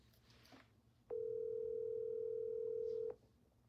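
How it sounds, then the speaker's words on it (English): An outgoing phone call gives one steady electronic ringback tone lasting about two seconds, clear and even, over quiet room noise and with no talk during the tone. "All right, Brett, pick up the phone."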